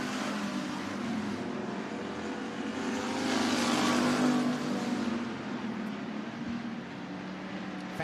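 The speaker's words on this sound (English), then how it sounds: "Fastest car on track that last time by was the 172 of Tyler Irwin" Race cars circling the Bakersfield Speedway track during heat races, a steady distant engine drone that swells to a louder pass midway and then settles back to a constant hum.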